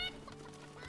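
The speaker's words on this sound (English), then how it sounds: "Draw a minion, hit the minion, transform into a chicken." Clucking of a chicken in the Hearthstone card game, a short, soft, close cluck over a quiet steady game background.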